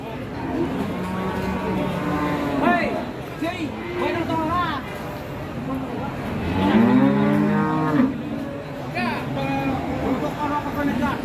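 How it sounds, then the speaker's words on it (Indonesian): Cattle moo repeatedly amid a busy crowd, with voices chattering and bustle around them at the lively Jatirogo cattle market in Indonesia. "Untuk kondisi pasar sapi Jatirogo hari ini sudah cukup lumayan ramai"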